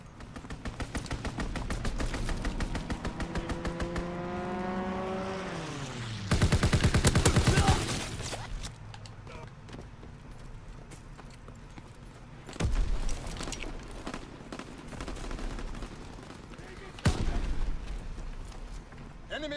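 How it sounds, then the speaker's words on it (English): In a Call of Duty-style shooter, an enemy aircraft makes a strafing run: a whining pass descends in pitch, then a loud, dense burst of rapid gunfire hits. Later, two more heavy bursts of firing break through steady background battle noise. "Enemy strafing run inbound."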